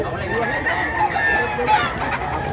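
Capon roosters at a Mantalungon, Cebu poultry market crow and cluck in drawn-out calls, fairly close and overlapping amid steady background chatter.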